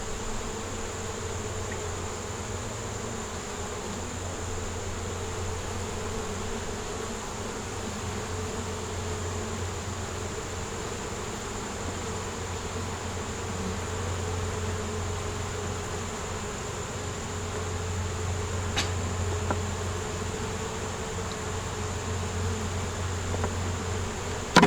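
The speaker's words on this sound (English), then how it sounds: "Little bees jumping around on my feet now." Bees hum steadily around an outdoor beehive, a close, continuous droning buzz that holds at an even level throughout with no talking.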